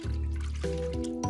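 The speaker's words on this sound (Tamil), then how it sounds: "நான் போய் அதுக்கு தண்ணி கொண்டு வந்து ஊத்துறேன்." Water poured onto a planted seed in a cartoon, heard as a few close, bubbly gurgles and drips with shifting pitch and nothing else over them.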